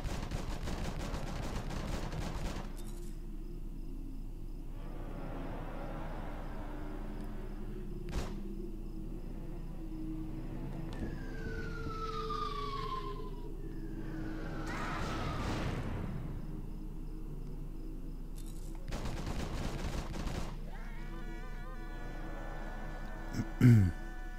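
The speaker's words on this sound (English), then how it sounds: "let's try get this airstrike on the go" Airstrike in the video game Tiny Troopers: Joint Ops, with bursts of gunfire and explosive rumbles alongside falling whistles over a steady game background.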